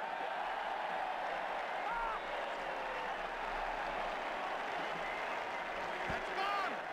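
A cricket crowd in the stands at a Pakistan v India ICC Champions Trophy match applauds a boundary shot, steady, broad clapping held for several seconds at an even level, with a commentator's voice over it.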